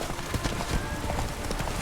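Hooves of the horse Roach galloping in The Witcher, a fast rhythmic clip-clop running close and steady throughout.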